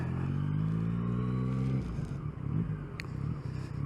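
Yamaha MT-09 motorcycle being ridden, a steady engine drone that drops in pitch partway through as the rider eases off, with wind buffeting, close and fairly loud.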